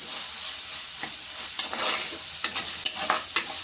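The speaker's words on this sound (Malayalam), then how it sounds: "നന്നായി ഇളക്കണം." Ginger-garlic paste frying in a pan gives a steady close sizzle, with a spoon scraping and stirring through it in short irregular strokes.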